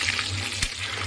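Chicken pieces for chili chicken fry in hot oil with a close, steady bright sizzle and a single sharp tap of a utensil midway through the brief sound.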